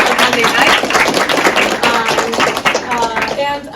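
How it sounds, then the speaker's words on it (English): An audience applauds a guest speaker arriving at a university event at Temple University in Philadelphia, with loud, dense clapping lasting several seconds and a voice speaking over it. "Give a round of applause"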